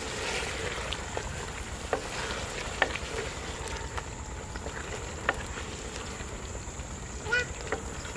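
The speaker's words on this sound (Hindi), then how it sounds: "दही डालने के बाद थोड़ी देर के लिए मज़ीद भून लेंगे" Chicken karahi with yogurt fries in a pan with a soft, steady sizzle and bubbling, quiet and close, broken by a few light clinks.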